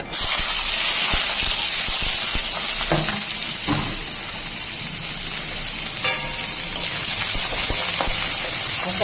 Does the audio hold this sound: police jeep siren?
no